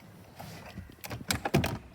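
Glove box of a 2000 Holden VT Commodore SS in original condition being opened, a few soft plastic clicks and a latch clunk close up in a quiet cabin.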